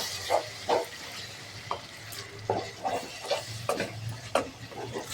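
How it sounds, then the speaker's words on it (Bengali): A spice masala for egg tarka with a pinch of sugar and white vinegar, frying in a pan and being stirred, a low sizzle broken by repeated scraping strokes of the spoon at an irregular rhythm. "আবারও মশলাটাকে ভালো করে কষিয়ে নিয়ে"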